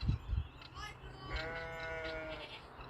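Sheep bleat on a farm where a guinea fowl has wandered into the flock. A person speaks briefly first, then one sheep gives a drawn-out, wavering bleat at moderate distance.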